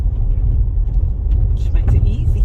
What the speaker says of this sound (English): it just rolls quite happily in like 10 mile an hour or just over in second